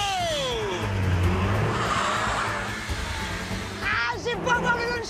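A Peugeot 308 and a Volkswagen Golf GTI launching hard from 0 to 100 on a track, engines roaring with tyre squeal and rising revs, and people talking over the noise.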